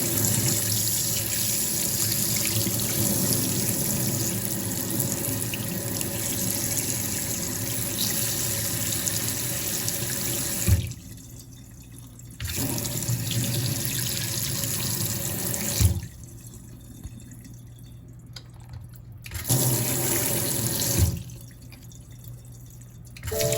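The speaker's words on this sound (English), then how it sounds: "See what it looks like washing all this stuff out." Tap water running while a fulgurite is washed, a loud continuous gushing stream broken by a few short pauses where the flow stops and drips remain.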